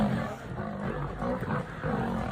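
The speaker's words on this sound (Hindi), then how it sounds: "गिर के जंगलों में दहाड़ते हुए एक दूसरे पर झपटे शेर।" Lions roar and snarl while fighting in the Gir forest of Junagadh, Gujarat, a continuous rough, throaty growling with rising surges, loud and close.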